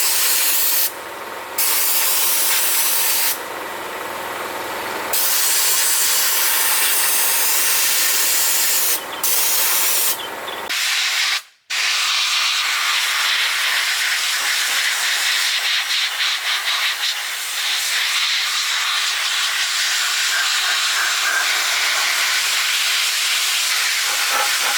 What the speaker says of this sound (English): we'll go ahead and use the soda blast gun, air compressor, and the baking soda media